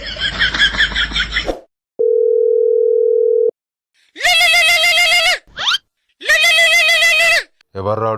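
A telephone tone sounds as a steady, flat one-and-a-half-second beep after a stretch of loud speech, followed by more bursts of loud, strained voices, part of a village comedy skit.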